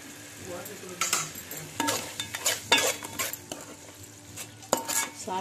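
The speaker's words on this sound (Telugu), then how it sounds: "మొత్తం మిక్స్ చేసుకొని ఫ్రై ఎగరనివ్వండి" Minced meat (keema) being stirred and fried in a pan, a spoon scraping and clinking against the metal in uneven strokes over a steady low sizzle, close and fairly loud.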